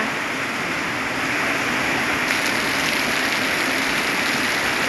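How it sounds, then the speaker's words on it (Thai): Heavy winter rain in Lampang, Thailand, pours down in a dense, constant hiss, loud and close, with no pauses. "ฝนตก ในฤดูหนาวนะคะ ที่นี่ลำปางเลยนะคะ"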